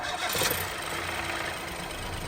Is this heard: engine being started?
yes